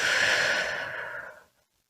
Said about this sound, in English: I want you to start by taking a deep breath in